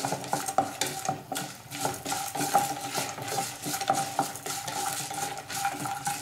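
Roasted peanuts being stirred in a pan for upma, with rhythmic scraping and clinking strokes of a spoon against the pan over a soft sizzle.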